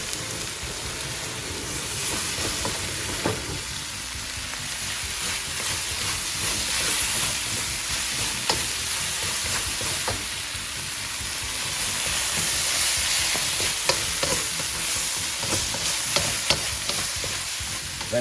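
Korean beef and vegetables stir-fry in a pan, with a loud, continuous sizzle and occasional scraping of the utensil throughout.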